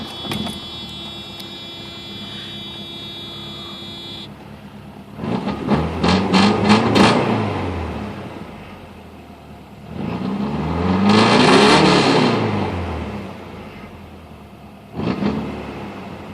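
A Cosworth Mercedes-Benz engine in an E28 project car cold-starts roughly, then runs unevenly with swelling and fading revs and a steady whir between, close and loud, with no talking.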